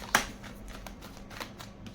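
Tarot cards shuffled close by, one sharp riffle snap at the start followed by soft, quieter flutters and clicks of cards slipping from the deck.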